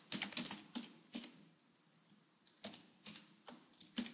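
Quiet, close clicking of a computer keyboard while PHP code is typed, irregular bursts of keystrokes separated by short pauses.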